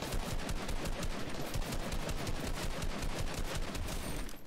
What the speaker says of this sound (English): I love the fireworks